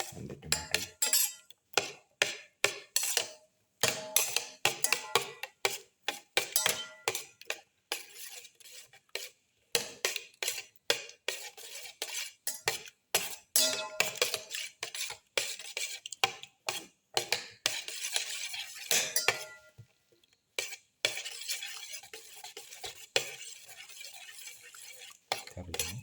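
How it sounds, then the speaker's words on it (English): Ginger, garlic and tomato are stirred and crushed in a pan with a utensil, producing repeated scraping and clinking strokes in uneven bursts with a faint sizzle underneath. "Keep on mixing and crush the ginger, garlic and the tomato."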